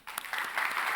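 A brief burst of clapping in a church Sunday service, a few hands applauding together for about a second, fairly quiet and close.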